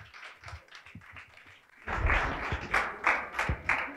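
An audience at a talk event begins clapping, first a few scattered taps and thuds, then a fuller burst of applause in quick rhythmic bursts that stays fairly close.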